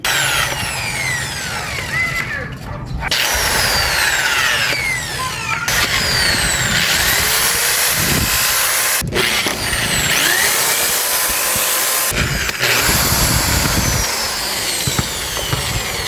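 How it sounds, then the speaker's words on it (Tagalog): A power drill bores holes in a Yamaha YTX 125 rear fender for mounting bolts, whining loud and steady for several seconds at a time, with short pauses between runs. No one speaks. "magbubutas tayo dito para doon natin ikakabit yung mga bolts para maisalpak natin yung fender."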